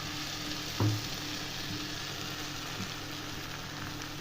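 Ground cashew and spice paste sizzles steadily in oil in a pan of broiler chicken curry, a close, even frying hiss with a brief stir or clatter near the start and a small knock at the end; no one speaks.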